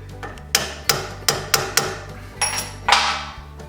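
A hammer strikes a punch braced against a stopper in a vise, about eight sharp metallic blows in an uneven rhythm, close and loud, during a 1949 Chevy glass install.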